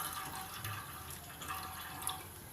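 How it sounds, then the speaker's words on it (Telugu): Water poured into a cooking pot before boiling millet rice, a faint continuous trickling and splashing stream with light dripping accents, close and alone. "ఈ నీళ్ళని మనం ఈ పాత్రలో పోసుకోవాలి."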